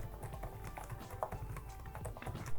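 Quiet, muffled typing on the keyboard of an HONOR MagicBook 14 laptop, a soft, steady patter of keystrokes close by at a low level, with no talk over it.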